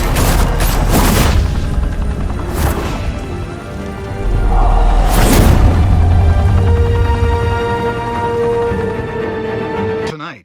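Gunfire in Batman: The Telltale Series, a fast fusillade of loud shots and booming impacts up close, followed by a heavy blast and a tense sustained music bed that fades out at the end.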